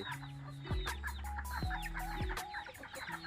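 Chickens cluck in a backyard coop made from recycled materials, with several overlapping birds giving repeated close clucks and brief squawks, no talking.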